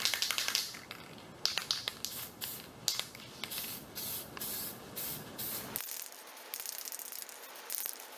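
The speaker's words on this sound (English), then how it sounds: "This one I'm gonna spray a little bit heavier than the first one" An aerosol spray can puts a yellow tint coat onto car foglights in repeated short hissing bursts, several in a row with brief pauses and light rattles between, near and fairly loud.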